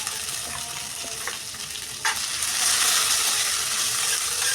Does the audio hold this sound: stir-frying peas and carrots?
yes